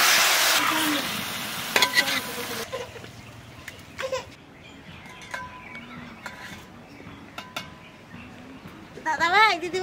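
Mutton stir-fried with reddish fried onions in a pan for biryani: a strong sizzle at first, then quieter frying with scraping and clinks of the spoon as a voice talks over it.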